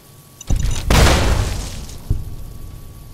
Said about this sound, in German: Das gibt mal eine gute Explosion.